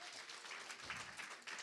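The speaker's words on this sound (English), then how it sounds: "Let's give her one more round of applause." An audience at a women's banking launch event claps for a speaker, a brief, faint spell of many hands applauding steadily with no talk on top.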